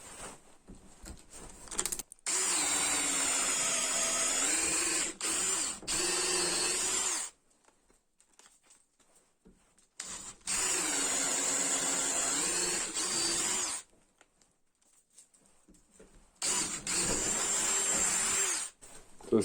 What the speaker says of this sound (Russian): Очень хорошо забуривается в дерево и очень быстренько его сверлит.